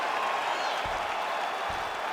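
A large arena crowd at a UFC fight roars and applauds steadily as a 25-minute bout ends, forming a dense, continuous wash of cheering with a couple of low thumps underneath.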